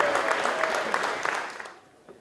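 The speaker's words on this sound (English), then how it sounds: "let's give them all a round of applause." An awards dinner audience gives a round of applause, a dense wash of clapping that carries steadily before tapering off toward silence at the end.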